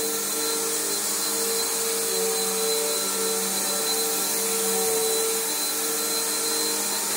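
A Bissell Powerforce bagged upright vacuum cleaner runs steadily on carpet in an apartment, giving a loud, continuous motor whine and airflow roar that shifts slightly in pitch as it moves, with no talking.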